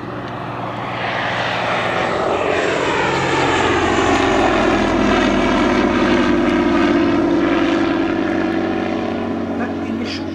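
A Bristol F2B Fighter, a First World War biplane, flies past with a loud, steady propeller-engine drone that swells slightly and holds throughout, with no break in the roar.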